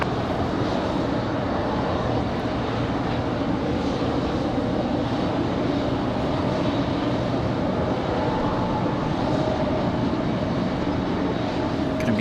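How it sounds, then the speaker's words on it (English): An Air France Boeing 787 Dreamliner takes off from runway 5 left at Raleigh-Durham International Airport, its jet engines giving a steady, continuous roar that stays even and moderately distant throughout, with no voices. "enjoy the Dreamliner departure"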